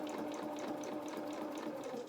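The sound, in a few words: sewing machine stitching fabric doll head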